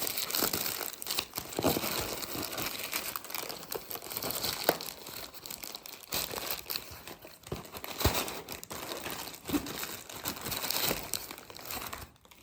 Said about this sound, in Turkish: diğer paketi de açıyoruz